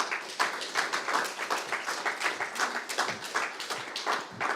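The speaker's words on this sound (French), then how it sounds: "On l'applaudit bien fort" An audience at a regional BTS sales competition final applauds, a dense, steady burst of many hands clapping that carries on unbroken from start to finish.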